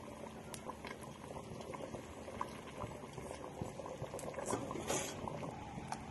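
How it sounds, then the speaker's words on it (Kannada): A pot of old-style dry fish curry boils steadily, its dense bubbling and popping continuous and close throughout, with no voices present. "ಕುದೀತಾ ಉಂಟು, ಅದು ಕುದ್ದ ಮೇಲೆ ಕಾಯಿನ ಹಾಕ್ತಿದ್ದಾರೆ."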